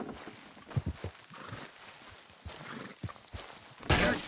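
Horse hooves clip-clop in an irregular walking rhythm in the video game Red Dead, moderately close, followed by a brief burst of noise at the end.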